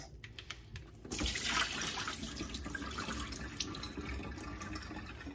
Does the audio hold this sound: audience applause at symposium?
no